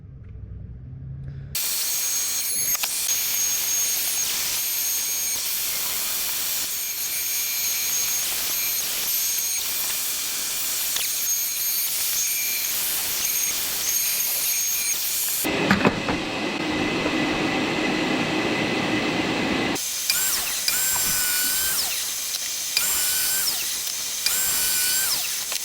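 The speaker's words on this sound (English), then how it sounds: "This Makita trim router, cordless, 3/4 inch router bit made by Diablo." A Makita cordless trim router fitted with a 3/4-inch Diablo bit cutting wood, a loud continuous high-pitched whine that shifts in tone midway before resuming.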